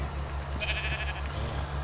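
Sheep bleating in the Ark: Survival Evolved video game, a drawn-out bleat in the middle over a steady, pulsing low background hum.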